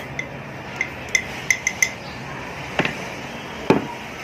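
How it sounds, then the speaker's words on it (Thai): Teaspoon scooping cocoa powder out of a container, a series of light metallic clinks and taps in uneven rhythm, close by, followed by a couple of louder knocks against the rim. "เราจะตักผงโกโก้ที่ 3 ช้อนชาแบบนี้นะคะ"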